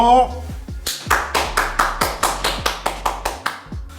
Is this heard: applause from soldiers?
yes